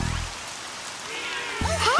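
Steady rain hiss fills the clip at a moderate level, with a brief low tonal sound near the end.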